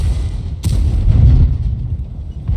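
A single sharp shot from the KV-1S tank's gun in the video game World of Tanks, a loud crack followed by a deep, rolling low rumble that fades over the next couple of seconds.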